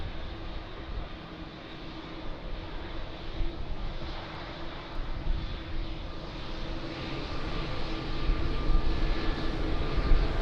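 A Boeing 777 jet rumbles at Lisbon Airport, a broad, steady engine roar that slowly grows louder from a distance, with no talking.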